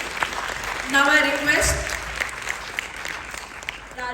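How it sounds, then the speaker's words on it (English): A conference audience applauds steadily in a hall, with a speaker's amplified voice talking over the clapping. "Let us welcome Dr. M.L. Garote with a big round of applause."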